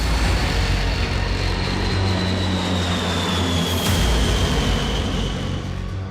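B-52 bomber aircraft flying, a loud, steady roar of engines that fills the whole stretch, with a thin whine slowly gliding downward and no voices.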